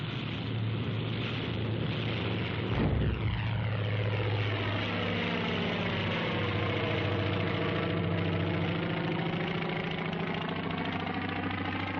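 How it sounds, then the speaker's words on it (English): Several WWII Navy carrier aircraft take off from a flight deck in the Central Pacific, propeller engines roaring steadily with a strong low drone and a rising pitch sweep as one plane passes close by, continuous throughout. "Aircraft leave the flight decks during extensive attacks that softened up the Central Pacific targets for amphibious operations"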